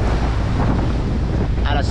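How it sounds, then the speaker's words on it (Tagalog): Steady wind roars across the microphone aboard a boat on the Pacific Ocean, a loud continuous rush with water and hull noise beneath it. "At medyo mahangin ngayon."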